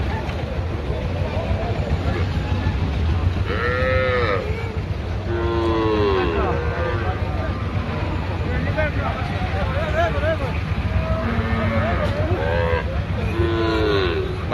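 Cattle at a busy village livestock market moo repeatedly, several drawn-out calls near and far over a constant crowd murmur and people talking.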